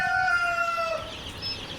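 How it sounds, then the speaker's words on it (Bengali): Multicolour tiger chicken chicks give a few high, thin cheeps, close by, over a soft background hiss. "এটা হচ্ছে অরিজিনাল মাল্টি কালারের টাইগার মুরগির এ গ্রেডের বাচ্চা।"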